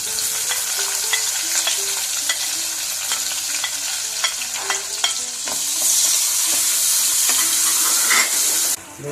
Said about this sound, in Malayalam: വെണ്ണ ചൂടായിട്ടുണ്ട് നമുക്ക് ഈ ഉള്ളിയൊക്കെ ഇട്ട് കൊടുക്കാം